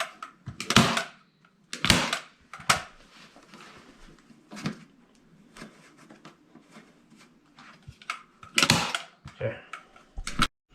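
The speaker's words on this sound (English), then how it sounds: "And run my staples down it." Staple gun driving staples one after another into boat trailer upholstery fabric pulled snug, several sharp close snaps spaced out with quieter handling and rustling between them.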